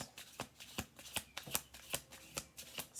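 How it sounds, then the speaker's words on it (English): An oracle card deck is shuffled close up, giving a steady series of crisp card slaps about three per second, quiet and alone with no talk. "All right, we're going to do one more shuffle."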